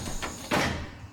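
A bus door clatters and slides as the driver steps off, two quick knocking thuds followed by a louder scraping bang, close and brief with no speech.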